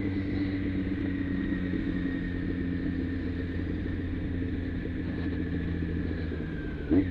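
Motorcycle engine idling at about 1000 RPM with the fuel turned off, a low steady rumbling hum held evenly and close, ending in a short bump, no voices.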